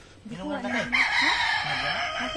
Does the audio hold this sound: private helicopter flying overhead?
no